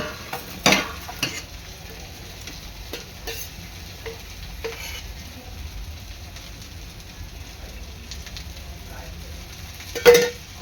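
Crab pieces frying in a little oil in a pan give a faint continuous sizzle, with a few sharp clinks and scrapes standing out, the loudest near the start and end.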